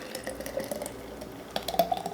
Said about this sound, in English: let us just pour this into our cups